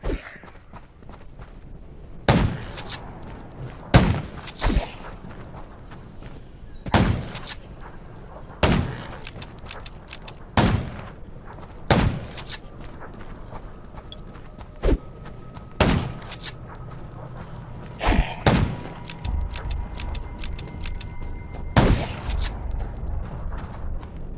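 Gunshots ring out in the zombie survival video game Undawn, sharp single shots spaced a second or two apart, loud and close, with a faint background of game ambience between them.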